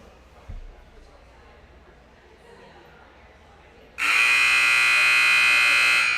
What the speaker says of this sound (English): there's the buzzer ending halftime